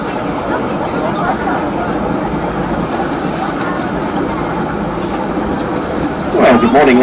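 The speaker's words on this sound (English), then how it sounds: "It's been a number of years since the steam train has traversed here" A heritage steam train on a suburban line around Auckland gives a steady, loud rolling rumble with faint rail clatter, heard from inside a carriage under passenger chatter, then a short, sharper burst of noise near the end.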